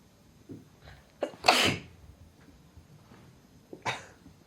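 Two sharp sneezes, the first loud and bursting, the second shortly after, with a few small coughs or sniffs around them in a quiet room.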